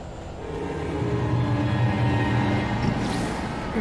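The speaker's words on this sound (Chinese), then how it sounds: "我要跟火车 PK 了。" A train approaches in the video game Alan Wake, a steady rumbling roar that swells gradually louder over a few seconds with a faint high screech near the end.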